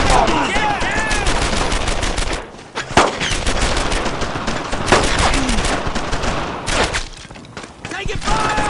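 Rapid, continuous machine-gun and rifle fire in the World War II shooter Brothers in Arms: Earned in Blood, loud and close with a few heavier bangs, while soldiers shout over the din.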